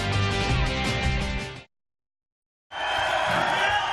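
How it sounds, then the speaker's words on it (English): A crowd at a racquetball semifinal cheers and roars loudly, cut by a brief silent gap before the cheering resumes at full volume. "You hear this crowd trying to fire up Jack Cusack to get back into this"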